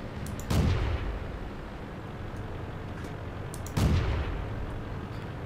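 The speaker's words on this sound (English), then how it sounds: "I'm just shooting shit at this point" Two heavy booms from a tank cannon in the World of Tanks game, a few seconds apart, each a deep thud with a short rumbling tail over a constant engine drone.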